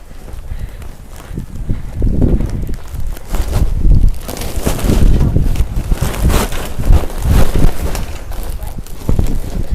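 Strong gusty wind ahead of a rainstorm buffets the microphone in deep, loud surges that rise and fall, with scattered rustling and clattering outdoors.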